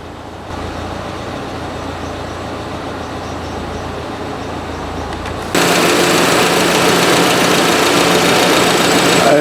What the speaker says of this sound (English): And the fan is working.